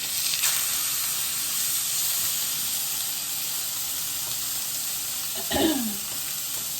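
A sirloin steak, just flipped, sizzles in a hot pan with a steady, bright hiss throughout, and a brief clink of a utensil comes near the end.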